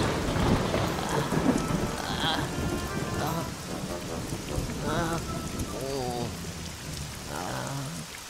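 Cartoon rain pours down in a steady, dense wash, while animated characters talk briefly over it.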